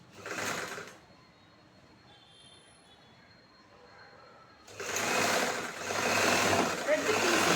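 Sewing machine stitching two fabric pieces of a chudithar bottom, a loud rapid whirring burst, a quiet pause, then a longer steady run of fast stitching, close by.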